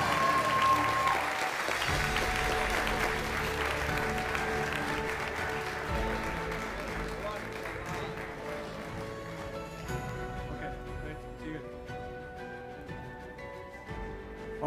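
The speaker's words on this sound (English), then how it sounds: "another round of applause for the men's tennis team" Sustained applause for a men's tennis team at a college athletics awards ceremony, steady clapping from a large audience that swells early and slowly tapers off, with no talking over it.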